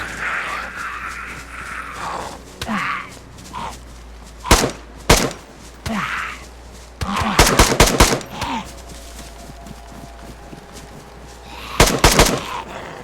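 Gun fired in DayZ on Namalsk Island, several sharp close shots in irregular clusters, some in quick rapid runs, amid scuffling and low game noise.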